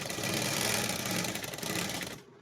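A sewing machine stitches trousers, giving a steady, close, whirring run of rapid needle strokes for about two seconds before stopping abruptly.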